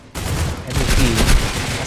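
Rapid gunshots in the video game C-OPS, a sudden loud volley of dense, overlapping fire that keeps up steadily until the end.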